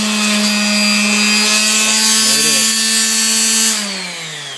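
An electric sander runs loud and steady with a high-pitched whine and harmonic drone, then winds down near the end as its sandpaper sheet flies loose from a clamp that is not tightened.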